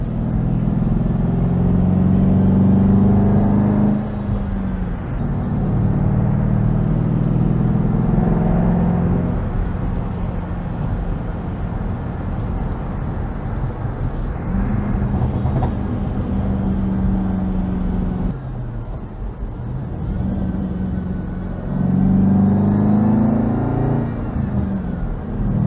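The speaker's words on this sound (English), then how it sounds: "maybe you can hear the sound of the exhaust" A Ford Mustang Bullitt's exhaust drones steadily from inside the car, swelling in loudness as it accelerates, easing off and then building again through repeated pulls, with no talk over it.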